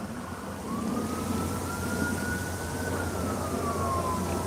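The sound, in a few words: sirens in the distance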